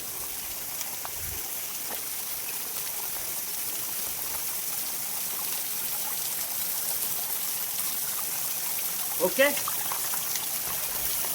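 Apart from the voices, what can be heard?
flowing stream water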